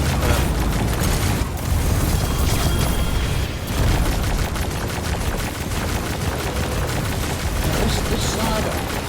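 Rapid bursts of assault rifle fire in the video game Destiny 2, dense and continuous with booming impacts and explosions layered throughout, loud and close.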